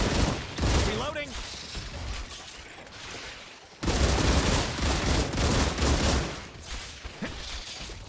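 Gunfire bursts in the video game StarRupture, rapid fusillades of shots in two loud stretches under voices and game audio.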